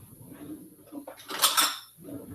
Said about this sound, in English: So I'm going to get a spoon.